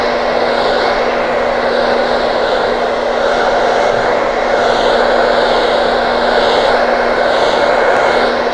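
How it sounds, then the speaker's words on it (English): A hair dryer blows on hair during a salon haircut, giving a loud, steady, unbroken whoosh of air and motor whir that holds at an even level from start to finish. "Blow drying is boring."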